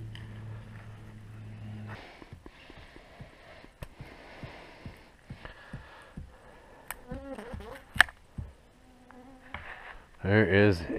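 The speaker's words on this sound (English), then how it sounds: "There is a good cloud of bugs, a healthy cloud of bugs around me." Insects buzz and whine in a cloud around a person standing by a lake while camping, faint wing drones passing close by amid scattered clicks and rustles, with a louder buzz sweeping past near the end.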